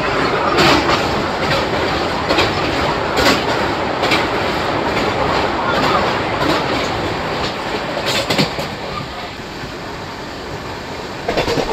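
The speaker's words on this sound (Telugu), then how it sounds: "మన ట్రైన్ వచ్చేసి డొంకిన వలస రైల్వే స్టేషన్ అయితే స్కిప్ చేస్తుందండి." Samta Express, the 12808 Nizamuddin–Visakhapatnam train, rushes through Donkinavalasa station at speed, with a steady loud roar of wheels and rhythmic clickety-clack from the rail joints all the way through, heard from on board.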